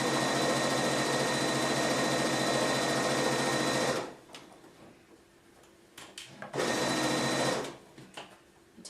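A sewing machine stitches along flat-ironed quilt seams in a steady, loud whirring run, stops for a couple of seconds with light handling clicks, then runs again in a shorter burst.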